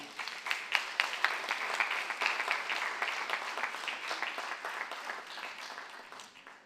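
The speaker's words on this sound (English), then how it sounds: "So please just give them another round of applause." Audience applause at the 2023 Sage Cultural Awards ceremony, a steady patter of many hands with a few sharper claps standing out. It holds at moderate loudness, then slowly thins and fades toward the end.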